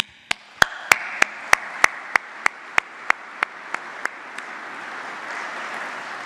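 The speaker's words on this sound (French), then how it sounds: "je vous propose de les applaudir" A single pair of hands claps about a dozen times at a steady rhythm during a welcome speech at a retail industry event, sharp close claps over a rising wash of wider crowd applause that takes over.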